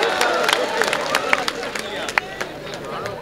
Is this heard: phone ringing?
no